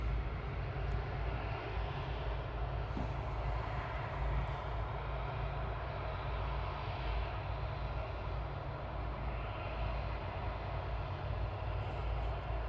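An airplane taxiing out at Manchester Airport produces a steady, distant, low engine rumble and hum, continuous and even throughout with no voices.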